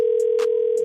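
A steady telephone line tone hums through a call being transferred, with a few short higher chirps and a brief burst of noise partway; no voices.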